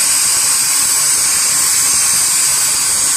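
Compressed air rushes steadily out of the outlets of a six-way valve at around six bar. The hiss is loud, close and unbroken throughout, with no talking.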